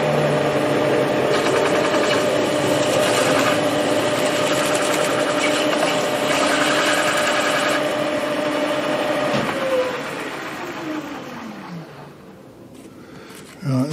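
Milling machine running while drilling a hole fed by the quill hand wheel, a steady mechanical whir that drops and winds down near the end, no talk.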